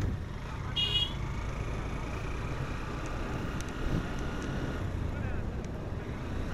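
Cold wind buffets the microphone on the mountain road from Thanchi toward Dim Pahar in Bandarban, a steady, loud low roar that runs through the whole stretch with brief faint higher tones above it.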